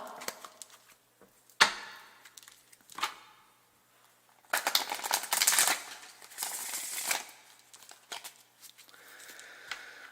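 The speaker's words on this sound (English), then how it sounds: "Let's go ahead and shuffle." Tarot cards are shuffled by hand nearby: a few soft taps and flicks, then a burst of riffling and slapping card noise, then quieter shuffling, all fairly faint against a quiet room.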